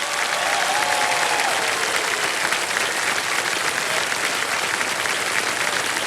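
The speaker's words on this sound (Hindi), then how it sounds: "तालियां बज जाए इनके लिए" Sustained studio audience applause on the Kaun Banega Crorepati game show, a dense, steady roar of clapping that stays loud and even throughout with no break.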